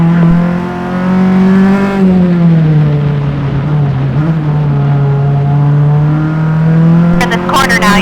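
A single-seater race car engine lapping the Gingerman track during an SCCA Fall SpeedFest race: a loud, steady, droning note that sags and levels off mid-clip, with a few sharp clicks near the end.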